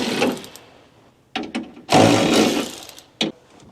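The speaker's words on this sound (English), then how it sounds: "So we're gonna loosen these with a ratcheting wrench." A ratcheting wrench loosens bolts on the window regulator of a 1968 AMC Javelin, heard as a few short, close clicking bursts separated by pauses.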